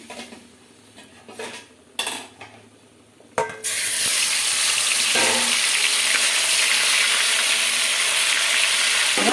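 Remaining sea fish dropped into hot oil in a pan: a few clinks of utensils and pan, then a sudden loud, continuous sizzle of frying that holds steady to the end.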